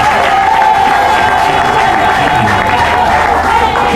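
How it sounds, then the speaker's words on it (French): Audience applause at a diploma ceremony, loud dense clapping from a crowd with some cheering and murmuring voices mixed in, sustained for the whole stretch. "Veuillez applaudir s'il vous plaît, chers assistants."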